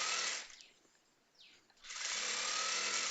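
A sewing machine runs a second line of stitching along a skirt side seam, whirring loudly and close, then pausing briefly before starting again and running steadily.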